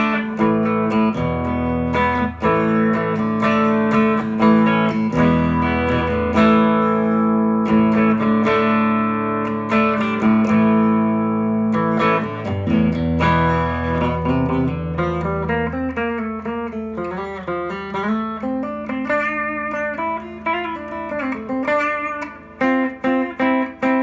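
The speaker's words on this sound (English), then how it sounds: "So here is the sound of the guitar clean by itself." A custom Telecaster with a Wilkinson steel bridge and brass compensated saddles plays clean through a Fender Twin Reverb, strumming ringing chords and then picking lighter single-note passages, close and steady with no talking.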